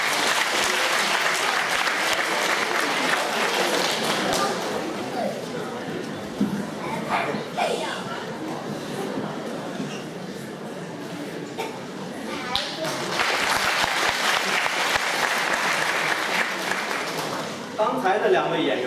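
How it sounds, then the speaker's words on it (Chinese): A hall audience claps steadily to welcome two crosstalk comedians onto a university stage, a sustained wash of applause with some chatter mixed in, swelling again toward the end. "掌声有请"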